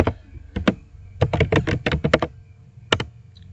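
Close, crisp keystrokes on a computer keyboard come in quick bursts and pauses as a place name is typed into mapping software.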